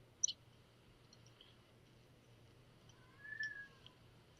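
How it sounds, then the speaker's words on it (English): A house cat meowing to be let in, heard as two brief, faint cries, one near the start and a slightly longer one later, over a quiet low room hum. "And my cat is trying to get in."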